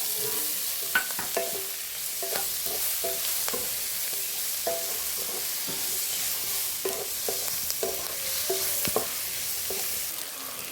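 Liver roast cooking in a pan with garam masala powder, sizzling steadily while a utensil scrapes and stirs in repeated clusters of clinks, close and alone without talk.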